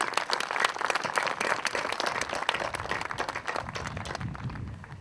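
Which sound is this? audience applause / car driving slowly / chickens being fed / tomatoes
audience applause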